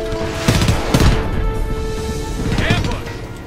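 Gunfire in the video game Homefront: bursts of shots crack out near the start and again toward the end over a rumbling combat backdrop, with voices shouting amid the firefight.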